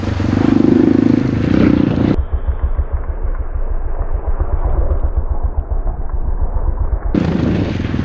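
A Kayo T2 dirt bike engine revs loudly with its throttle hanging up, a high roar dropping into a steady rapid low putter for several seconds before surging up again near the end.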